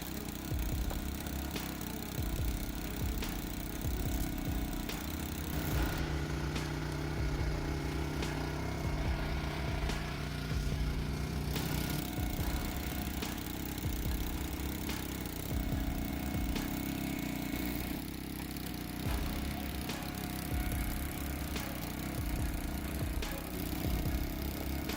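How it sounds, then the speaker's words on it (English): Engine of a Forest King log splitter, a heavy firewood processing machine, runs with a steady low drone at a constant level throughout, without breaks. "The Forest King Log Splitter is built to dominate, delivering unstoppable force for any log-splitting challenge."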